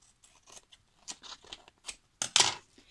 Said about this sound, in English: I'm gonna cut it a little bit more with my scissors.